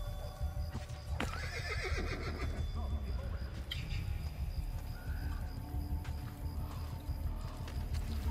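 A horse in the video game Assassin's Creed Brotherhood neighs loudly, a shrill whinny with trailing snorts, amid steady clip-clop hoofbeats and ambient game sound, with no talk over it.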